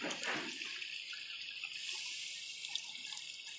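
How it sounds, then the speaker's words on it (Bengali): Water poured from a container into a pan for cooking lentil fritters, a continuous splashing hiss that stays fairly even and soft throughout, with no voices. "এবার আন্দাজ মতন বন্ধুরা জল দিয়ে দেবো।"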